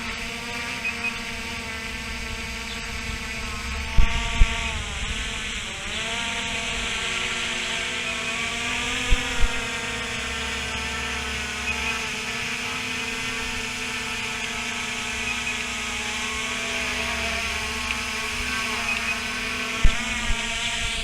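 An SJRC F11 4K Pro quadcopter drone hovers and flies with a sustained, high-pitched whining buzz of its propellers, steady and fairly close, with a few faint clicks and no talk.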